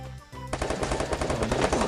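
Rapid automatic gunfire from the Free Fire video game, loud and continuous bursts after a brief quieter lead-in.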